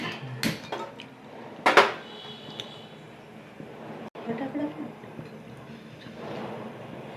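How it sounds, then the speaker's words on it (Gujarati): A heavy iron griddle (lodhi) set down on a gas stove in a home kitchen: two loud metallic clanks close together, followed by softer scraping and rattles, with a voice speaking quietly underneath. "હવે આપણે લોઢી મૂકશું અને ગેસ ચાલુ કરીએ."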